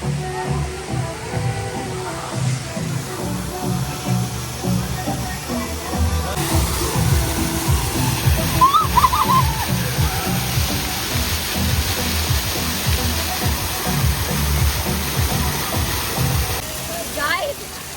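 Water splashes from a fountain at a water park in a continuous broad rush, with someone speaking over it for much of the time.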